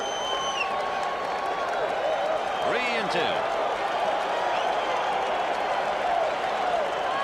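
A baseball stadium crowd at Game 2 of the 1986 World Series, Red Sox versus Mets with Roger Clemens pitching, roars and applauds steadily in the background while a broadcaster talks over it.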